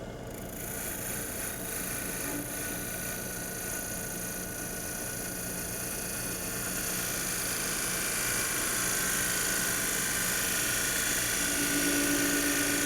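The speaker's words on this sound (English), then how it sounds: "use a spindle detail gouge to face off the bottom" Wood lathe spinning an end grain box blank while a spindle detail gouge faces off the bottom, a steady close droning whir with a faint rising hiss that continues evenly throughout.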